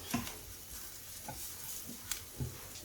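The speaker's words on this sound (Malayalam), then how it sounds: "ഇത്രയും സാധനം ചേർത്ത് നമുക്കൊന്ന് ഇളക്കാം" Onions being stirred in a pan with turmeric, coriander powder and garam masala, giving a soft, faint scraping and sizzle with a few light clicks of the spoon, no talking.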